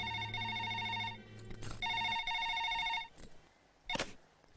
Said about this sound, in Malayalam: എങ്കിൽ ആ ഫോൺ എടുത്ത് കറക്കടാവേ.